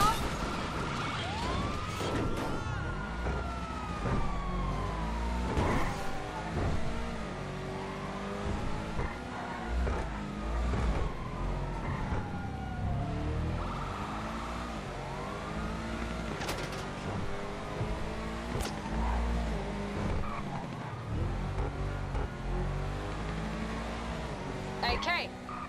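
In a video game car chase, police sirens wail and sweep up and down over a roaring car engine and road noise, continuous and loud throughout, while a voice talks over parts of it.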